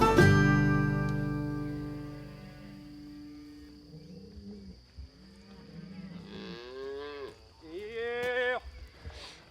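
Cattle moo repeatedly as cows are guided through a gate into a new paddock, several long, loud calls from nearby animals with quieter ones between, and insects faintly in the background.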